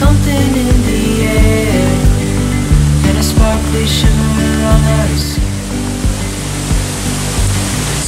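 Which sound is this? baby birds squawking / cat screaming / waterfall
waterfall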